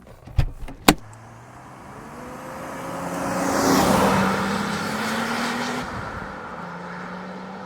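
Two sharp door thumps open the scene, then a 1988 Renault 25 V6 Turbo car engine rises and builds steadily as it pulls away, a close, sustained drone that slowly fades.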